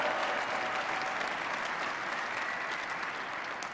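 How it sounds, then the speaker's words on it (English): An audience applauds for the lead robot inspectors in yellow hats at a 2015 robotics regional opening ceremony, a steady dense clapping that carries on evenly for a few seconds. "Big round of applause for them."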